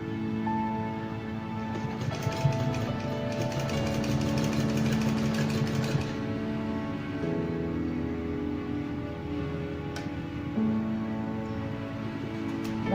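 A sewing machine stitches trousers being taken in, its motor whirring steadily with a rapid mechanical stitching rhythm, close by, with no talking.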